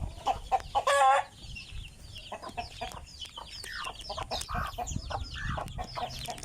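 Chickens cluck on a farm in a mango-tree yard. One loud, close burst of clucking comes early, followed by softer scattered clucks and bird calls over steady outdoor background.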